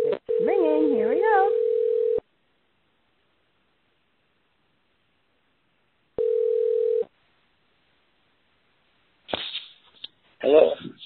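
A telephone ringback tone on an outgoing call-in line for a live internet talk radio show: a long steady burst, a pause, then a second shorter burst, followed by faint rustling and a voice near the end.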